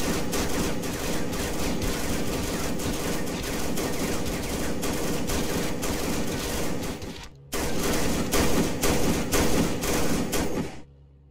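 Sustained automatic gunfire from an ammo-stocked weapon in a Minecraft-style video game, dense and loud with rapid continuous shots, a brief break near the end, then more firing before it cuts off.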